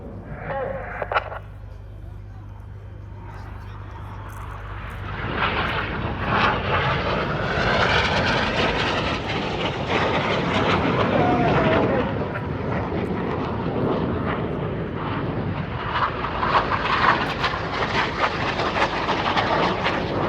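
Red Arrows synchro pair jets in a flying display at RIAT 2025, a loud sustained roar swelling and lingering overhead as they pull up and turn, with a public-address voice talking over it.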